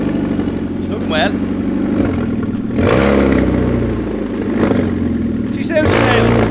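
A BMW E46 engine idles and revs repeatedly nearby, swelling and falling in short bursts over a rough, clattery rumble, with people talking over it.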